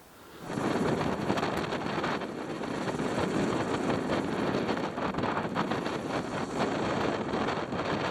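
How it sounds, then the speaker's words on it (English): Strong, steady wind of about 30 knots roars across the microphone at sea on a sailing boat near Cape Leveque, a constant dense rush with gusty buffeting and no voices. "the wind's really strong, like 30 knots"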